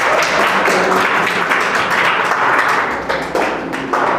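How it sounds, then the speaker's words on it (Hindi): Classroom applause for a student's prize, a dense steady patter of many hands clapping at once, loud and continuous with no talk over it. "चलो इस बच्चे के पुरस्कार के लिए ज़रा ताली कर जाए दो भैया"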